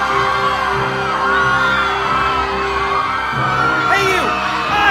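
Minecraft villagers in a video game crowd together and shout as they run, a dense, continuous mass of overlapping whoops and yells at steady loudness with no pauses.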